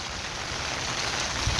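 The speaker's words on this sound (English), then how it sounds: "Pouring down rain" Heavy rain pours down steadily in a dense, continuous hiss on an already flooding morning, loud and even throughout with no talk.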